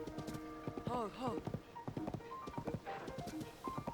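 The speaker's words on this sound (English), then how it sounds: "This is a massive horse." A massive horse gallops in The Legend of Zelda: Tears of the Kingdom, its rapid hoofbeats running steadily beneath someone talking and a brief whinny.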